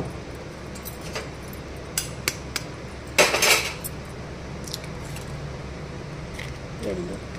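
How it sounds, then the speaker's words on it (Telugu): Eggs cracked into a bowl for a bread omelette, a few sharp taps and clinks against the rim with one louder crunchy burst, close up, with someone talking in the background. "ఎగ్ ఇంకొక పగలగొడతాము, 2 పగలగొడతాము."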